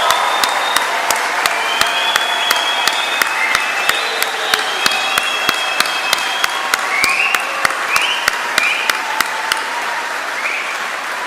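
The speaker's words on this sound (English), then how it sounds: "can we do one big, huge round of applause for everyone in this room?" Sustained round of applause from a large audience at a university undergraduate graduation ceremony, dense even clapping with a few sharp, distinct claps standing out, steady and loud throughout with no talking.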